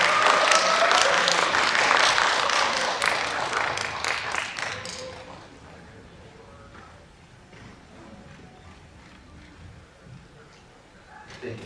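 An audience at a film screening Q&A event applauds as guests are welcomed onto the stage, a loud burst of clapping that gradually fades away to quiet room noise.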